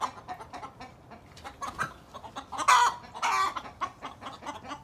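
Farm ducks call out in short, scattered bursts of quacking at close range on a homestead as light rain begins, with a louder, clustered run of calls in the middle.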